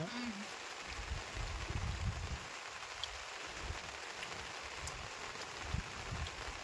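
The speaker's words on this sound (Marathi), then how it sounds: "रोज पाऊस चालू आहे. आता सध्या सुद्धा चालू आहे." Steady rain hisses over a wide area, continuous and even, with faint low rumbles and murmurs beneath it.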